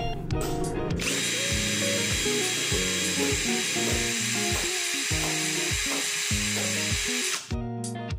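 A Kenjiro 20V cordless brushless drill spins up in its high-speed second gear and holds a loud, steady, high-pitched whine close by, then stops abruptly near the end.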